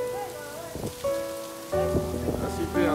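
Hail falls during an outdoor concrete pour, making a steady patter over the site along with a constant low hum and brief scattered knocks.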